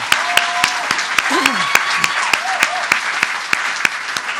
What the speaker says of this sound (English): I also, yes, applaud.